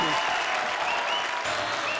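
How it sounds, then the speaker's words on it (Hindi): A studio audience on a comedy show bursts into loud, sustained applause, an even roar of clapping that holds for about two seconds with brief voices underneath. "जोरदार तालियां।"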